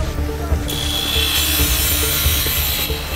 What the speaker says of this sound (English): Grinder coming in.